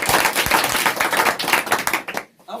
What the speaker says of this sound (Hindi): एक बार और ताली के लिए